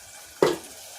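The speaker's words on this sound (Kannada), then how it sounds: "ಮಸಾಲೆನ ಒಗ್ಗರಣೆನಲ್ಲಿ ಬಿಸಿ ಮಾಡಿ" Spice masala poured into a hot tempering for mosaru saru, a yogurt curry: a single sudden burst of sizzling that flares loudly, then fades into a soft hiss over a quiet kitchen background.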